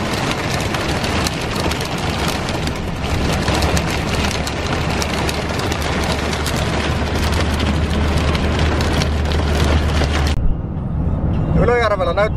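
Hail mixed with rain pelts a car, a loud dense continuous drumming clatter on the body and roof with a low engine hum beneath, which cuts off abruptly near the end as a voice speaks.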